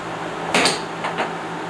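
A door shuts during a 1983 out-of-body experiment: a sharp thud, followed half a second later by two softer knocks, over a steady background hiss with no voices.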